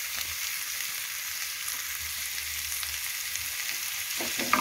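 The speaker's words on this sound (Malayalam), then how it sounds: "ചെറിയ രീതിയിൽ വഴന്ന് വരുമ്പോൾ നമ്മൾ സവാളയും കൂടെ ചേർത്ത് വഴിക്കാം" Onions sautéing in a pan for beef biriyani, a soft, steady sizzle with faint stirring, close but quiet, with a brief clatter near the end.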